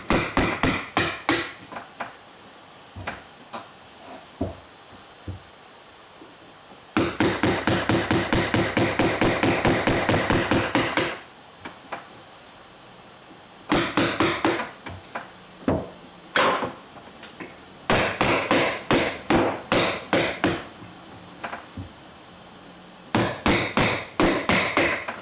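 A gouge is driven into very hard wood by a hammer or mallet during hand carving, producing sharp, close knocks that come singly at first and then in long rapid runs separated by pauses.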